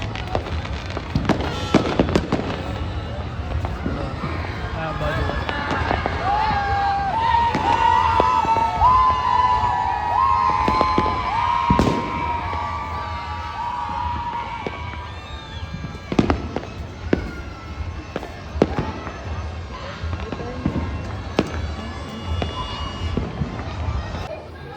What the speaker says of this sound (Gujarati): બધી બાજુ ફટાકડા ફૂટે છે